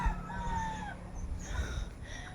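Backyard chickens crowing and clucking in the open on a windy, chilly day, a couple of drawn-out calls rising and falling over low wind noise, moderately distant.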